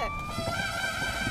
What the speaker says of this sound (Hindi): FM रेडियो में आग लग गई है इसलिए सायरन की आवाज सुनाई दे रही है